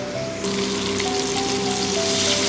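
Pabda fish sizzling in hot oil with a fine spice paste, a steady loud crackle and hiss that thickens and brightens after a moment and continues without talk.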